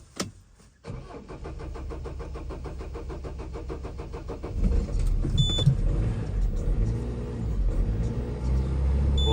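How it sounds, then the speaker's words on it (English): A Peugeot Expert diesel van engine cranks with a quick rhythmic starter churn, then catches and settles into a louder, rough, low idle rumble, heard close with no talking. "turn the key. Once it's dragged the diesel through, I'm hoping it fires right up."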